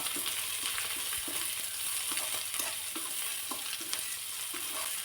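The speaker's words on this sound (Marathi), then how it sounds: "एक प्लेटभर उभा पातळ चिरलेला कांदा घातलेला आहे यामध्ये" A steady, close sizzle of thinly sliced onion frying in a pan for a Marathi churmura snack, with occasional soft stirring clicks and no talk.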